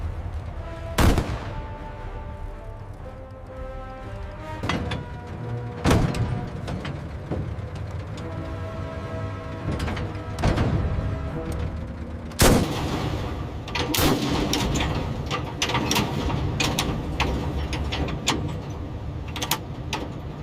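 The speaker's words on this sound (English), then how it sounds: "The massive 152mm howitzer delivered a devastating blow, a testament to Soviet heavy engineering." 152mm howitzer of a Soviet KV-2 heavy tank firing, several sharp booming blasts spaced seconds apart over a continuous engine rumble, with a cluster of quicker cracks near the end and no speech.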